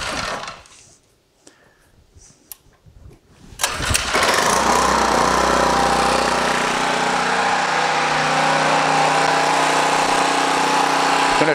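A portable generator engine is cranked with a few rattling pulls, then catches and settles into a loud, steady drone that runs close to the microphone until the end.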